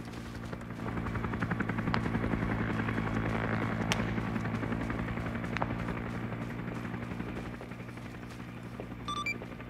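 Helicopter touching down in the ArmA 3 military game, a steady loud rotor drone with low engine hum filling the whole stretch, a few sharp cracks near the start and middle suggesting distant gunfire, no talk.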